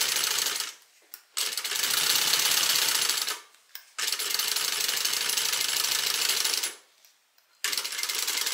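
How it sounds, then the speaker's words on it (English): A sewing machine top stitching a bag runs in three long, steady bursts of close mechanical whirring, separated by brief pauses. No one talks. "I'm going to go ahead and top stitch"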